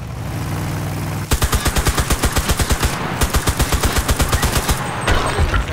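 Sniper rifle fire in the video game CRSED: F.O.A.D, a loud, rapid run of sharp shots that starts after about a second of steady background hum, with a brief pause before another dense burst.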